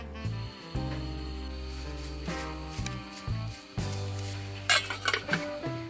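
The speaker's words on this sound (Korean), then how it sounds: "감자는 이렇게 으깨어 줄 거예요" Boiled potatoes are mashed in a metal pot, giving repeated clinks and scraping knocks of the utensil against the pot, with steady tonal resonance from the metal between strikes.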